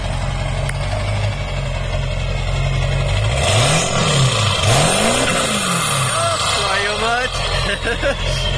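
A car engine revs up and down repeatedly with rising and falling pitch, loud and close, over constant road rumble while people talk.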